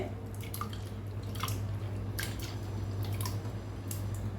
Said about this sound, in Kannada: ಈ ಥರ ಜೆಲ್ಲಿ ನೋಡಿ ಹೇಗೆ ಫ್ಲೋಟಿಂಗ್ ಆಗ್ತದೆ ನೋಡಿ, ಇದನ್ನು ಹಾಕ್ತೇನೆ.